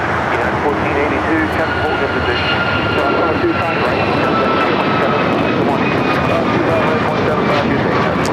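A Delta Airbus A350 jet arrives at LAX, a loud, sustained broadband engine roar with a faint high whine running through it and voices talking underneath.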